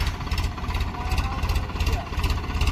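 A tractor's diesel engine runs steadily up close, its low rhythmic chugging and rattling continuous throughout with no pause.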